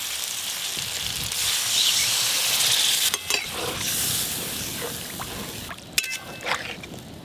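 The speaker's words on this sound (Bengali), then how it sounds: "এবার জল ঢেলে দেবো" Water is poured into spice paste frying for a fish curry, setting off a loud, steady sizzle with stirring scrapes, a few sharp clinks of the utensil against the pan, and a brief hiss surge near the end.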